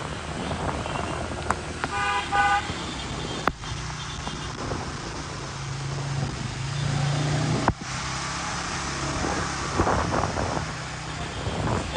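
Car horns honk in a rain-soaked traffic jam during a cyclone, with short toots and a few longer blasts at varying distances over a steady wash of rain, wind and idling traffic; no one speaks.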